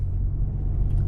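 2019 Lincoln Navigator accelerating up a small hill, a steady low engine and road rumble heard from inside the cabin, smooth and continuous without voices.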